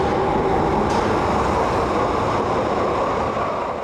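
A new Glasgow Subway train, fully air-conditioned with open walk-through carriages, runs along the network with a steady, loud rumbling roar that holds continuously throughout, no voices present.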